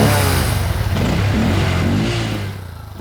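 Revving comes from a motorcycle on a rear stand, driving a 3D printed sprocket, loud and close. The engine holds a steady roar, then eases off near the end.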